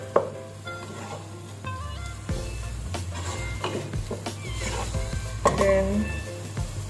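Meat chili is stirred and mixed in a pan with a spoon, giving scraping, clinking strokes over a soft sizzle, while someone talks throughout and faint music plays underneath.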